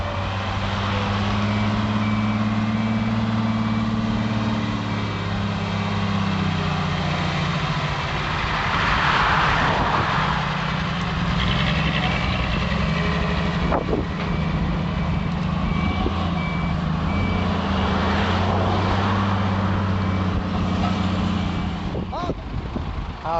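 A trailer truck carrying a 22-metre pole weighing about six tons, heavy engine rumbling and idling throughout with a repeating reversing beep. Voices and other machinery mix in and out over the steady drone.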